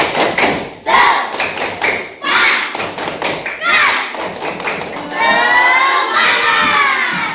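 Schoolchildren clapping and shouting together in a rhythmic spirit chant, loud close claps and thumps in a patterned beat, with the voices rising into a chanted shout toward the end.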